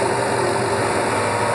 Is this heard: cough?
no